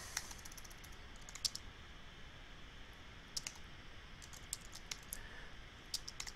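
Quiet keystrokes on a computer keyboard, scattered clicks coming in short bursts with pauses between, soft and close over faint background noise.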